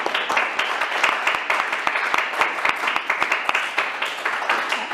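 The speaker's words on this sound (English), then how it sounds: "can we give them a round of applause" A room full of people applauds panelists at a Pi Day event, with sharp individual claps standing out from a steady patter that keeps going for several seconds.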